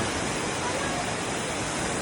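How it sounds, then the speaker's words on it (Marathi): A waterfall drops from a mountain cleft into the Aare river in Switzerland, a steady, full rushing roar that stays even and close for a brief moment. "त्या नदीच्या प्रवाहात पडत असताना दिसतो आहे पहा तो येणारा पाण्याचा धबधबा प्रवाह"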